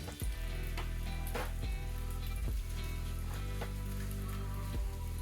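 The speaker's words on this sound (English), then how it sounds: "We're just going to brown this on each side" Slices of lemon quick bread French toast browning in a pan, a steady close frying sizzle with scattered crackles and pops throughout, no voices.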